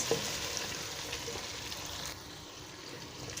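Chicken white karahi is stirred in a pan, with a steady, close sizzle of frying and soft, irregular scraping throughout, a little quieter toward the end.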